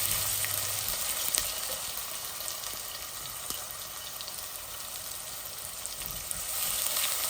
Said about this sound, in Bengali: এই যে আমার রসুনটা লাল লাল হয়ে গেছে, এখন আমি পেঁয়াজ দিমু পরিমাণ মতো।